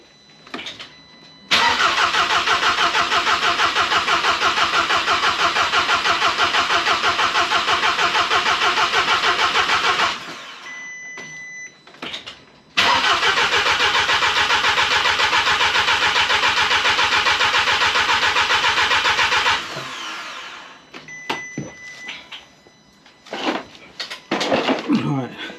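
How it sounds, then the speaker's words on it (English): An Audi TT Mk2 engine cranks over while the fuel system primes: two long, loud, steady starter-motor runs of about nine and seven seconds, separated by a short pause, then scattered clunks and quieter mechanical noises. "So just letting the engine prime."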